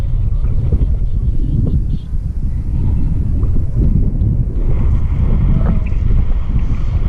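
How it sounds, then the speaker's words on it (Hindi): Cold wind buffets the microphone during a paragliding flight at Bhimtal, a steady loud roar of gusts throughout with no talk. "ठंडी हवा चल रही है।"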